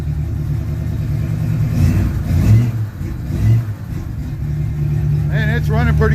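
A 1967 car with its old muffler rusted clean through revs hard and loud in rising and falling surges over a rough idling rumble, with a voice talking over it near the end.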